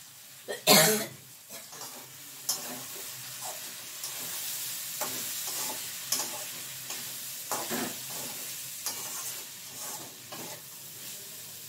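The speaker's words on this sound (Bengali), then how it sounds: "পেঁয়াজগুলি, আলু, মটরশুঁটি এগুলো দিয়ে একটু গাজর, এই ছোট্ট একটা আলু দিয়েছি, বেশি না, দিয়ে একটু ভাজা করছি।" Onion, potato, peas and carrot frying in a pan, with a soft continuous sizzle and repeated stirring scrapes close by, plus an early loud cough or throat clearing and no speech.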